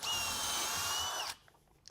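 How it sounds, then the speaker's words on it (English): SKIL 12V flip drill running in drill mode gives a close, loud, steady high-pitched whine for just over a second, then stops abruptly, leaving a few faint clicks and quiet room tone. "So no problem drilling in drill mode."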